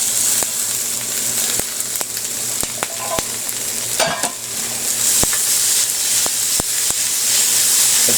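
Chestnuts and bamboo shoots frying in a 14-inch T-fal jumbo wok: a loud, steady sizzle close up, punctuated by sharp spatula taps and scrapes against the metal at irregular intervals, with no voices.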